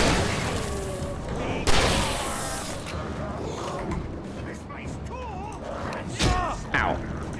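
Loud, spaced shotgun blasts in Alan Wake, a few heavy booms amid dense game noise, with a voice talking throughout.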